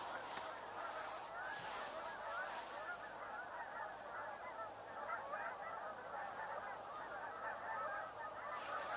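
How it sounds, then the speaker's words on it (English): Canada geese honking overhead during an outdoor bird tour, a dense chorus of repeated calls from a flock, continuous and moderately near, with no talk. "sounds like Canada geese up above us"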